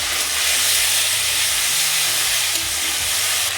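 Dried red chilli, whole cumin and ground spice paste sizzle in hot oil, a loud, steady hiss that holds without pause throughout.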